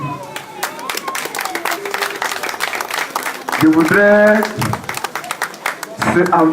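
Crowd applause with dense clapping runs beneath a person speaking into a microphone, swelling louder partway through.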